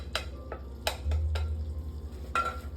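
Shrimp folded into a thick Cajun cream sauce in a pan, with several sharp clicks and scrapes of a utensil against the pan over a low, steady sizzle.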